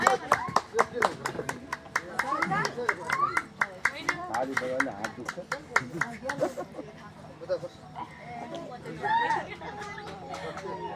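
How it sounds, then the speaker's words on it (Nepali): An audience claps together to welcome a young woman named Rojina before her dance, the applause sharp and rhythmic at first, then loosening into scattered claps under overlapping chatter and voices. "ताली बजाएर हाम्रो बहिनी रोजिनालाई स्वागत गरौँ"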